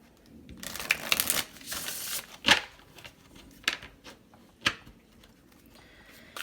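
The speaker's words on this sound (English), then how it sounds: "I'll shuffle one more time." Cards riffle and shuffle in several bursts, with sharp snapping flurries separated by short quiet gaps, close up and fairly soft.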